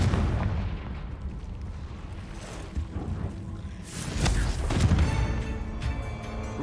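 Confringo blasting spells going off in Hogwarts Legacy, a series of loud booming explosions with crackling debris, the biggest blast near the middle and continuous rumbling throughout.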